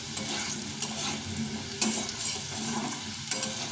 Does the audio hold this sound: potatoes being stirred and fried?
yes